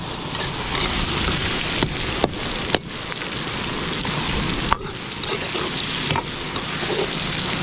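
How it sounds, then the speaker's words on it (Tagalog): Garlic, ginger, tomato and onion sautéing in a pan: a steady, close, loud sizzle broken by several sharp clanks of stirring. "Gigisa natin maigi."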